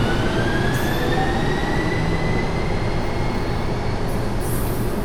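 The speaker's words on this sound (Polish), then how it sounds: "Tramwaj go wjeżdża." A tram rolls in with a steady rumble and rising wheel whine, continuous and fairly loud throughout.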